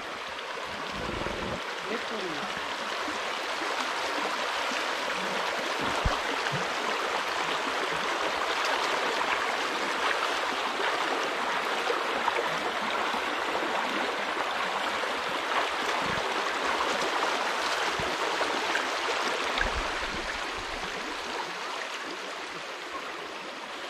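Cold water in the Sitanala forest stream flows in a steady, near rushing wash that continues unbroken throughout, around someone standing in the water.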